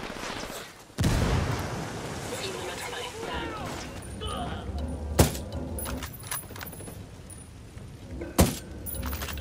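A grenade goes off in the tactical shooter Ghost Recon Wildlands, a sharp loud blast with a quick decay amid gunfire and vehicle noise, followed a few seconds later by a second sharp bang.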